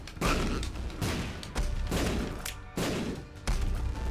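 Bomb explosions in The Binding of Isaac: Rebirth, four loud booming blasts spaced about a second apart, each with a sharp onset and rumbling tail, close and dominant.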